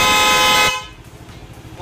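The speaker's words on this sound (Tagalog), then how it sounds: "Ayan, busina." A car horn sounds one loud, steady blast for about three quarters of a second, close up, while its wiring is being tested, then cuts off into quiet background noise with faint voices.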